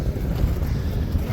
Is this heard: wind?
yes